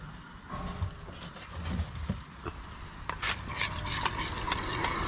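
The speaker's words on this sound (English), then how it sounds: "Go ahead and stir it." Flour stirred into melted butter in a pan, with soft scraping and stirring under a low sizzle that grows a bit more active toward the end.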